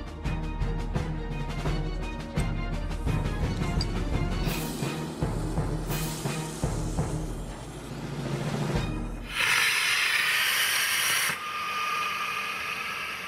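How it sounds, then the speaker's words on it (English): An aircraft evacuation slide bag fills from a rocket-gas booster combined with compressed gas, and a loud broadband rushing hiss bursts in and holds steady near the end, following a stretch dominated by musical tones. "I'm using the rocket gas as a booster and combining it with the compressed gas"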